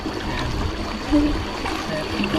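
Floodwater in a rice paddy runs and trickles in a continuous, close-up gurgle, with faint speech mixed in underneath.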